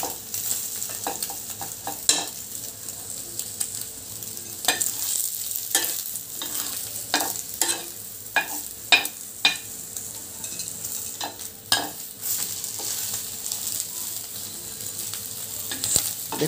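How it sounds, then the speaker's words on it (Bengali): A batter snack fries in oil and gets flipped in the pan, giving a steady close sizzle broken by scattered sharp clicks and scrapes of stirring and turning, with no talking. "এভাবে উলট পালট করে ভালো করে ভেজে নেবেন তেলের উপরে"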